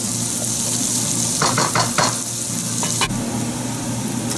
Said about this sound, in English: This is one red chopped onion, and we'll cook this till it's brownish.